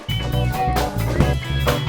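Dense music with a steady low pulse and chords, bathed in a roomy reverberant wash that lingers between hits.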